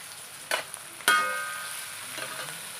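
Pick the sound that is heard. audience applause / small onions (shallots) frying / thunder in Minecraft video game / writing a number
small onions (shallots) frying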